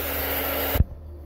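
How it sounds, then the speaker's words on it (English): A hair dryer runs on an MPP Solar LV2424MSD 2.4 kW inverter, giving a loud, steady airy whoosh that cuts off abruptly, followed by a quieter hum. "And so that's a hairdryer,"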